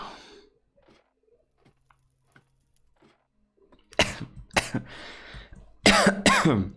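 After a quiet stretch, a person coughs several times in loud, harsh bursts, close to the listener.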